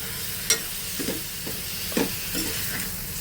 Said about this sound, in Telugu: ఒక మూడు నాలుగు నిమిషాలు మీడియం ఫ్లేమ్లో పెట్టి మూత లేకుండా వేయించుకోవాలండి